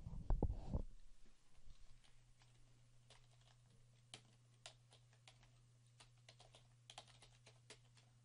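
A web address is typed on a computer keyboard: a short thump, then sparse, faint keystroke clicks at irregular intervals over a quiet steady hum.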